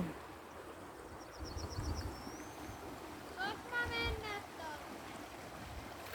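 A stream runs behind a house in Finland in spring, giving a soft, steady rushing wash heard from a distance, with a few small bird chirps over it.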